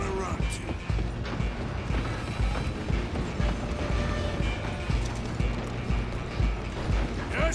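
A train in the Red Dead Redemption 2 video game rumbles steadily with rhythmic mechanical clanking and creaking, loud and continuous, with hoof-like beats mixed in.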